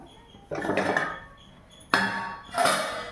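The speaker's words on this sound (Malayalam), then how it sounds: "നമുക്ക് മൂടി തുറന്ന് നോക്കാം." A lid clanks and rattles against a metal pot of simmering fish curry, two distinct metallic clatters with ringing tails, close and fairly crisp in a quiet kitchen.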